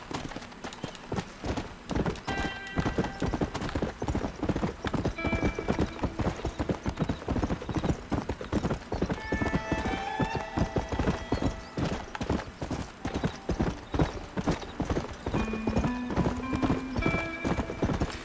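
Galloping horse in Red Dead Redemption, loud rapid clip-clop hoofbeats pounding continuously with brief whinnies and game music tones layered on top.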